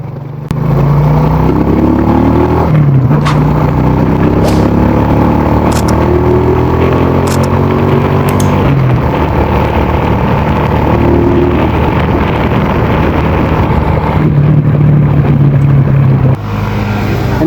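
A motorcycle engine runs steadily and loudly throughout, with rising and falling pitch as it revs, plus occasional clicks and clatter.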